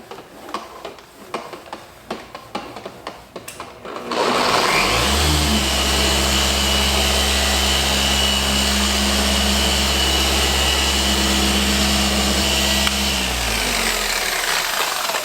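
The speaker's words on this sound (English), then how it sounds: "So let's hit it with the buffer." A polishing buffer starts up on the paint of a white Mercedes C63 AMG, running as a loud steady mechanical whir after a few seconds of clicks and handling noise, then winding down near the end.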